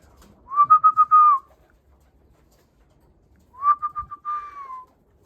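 Two bursts of cooing from Budapest and Mykolaiv pigeons, each a quick run of pulsing notes sliding into a drawn-out tone, close and clear with quiet gaps between.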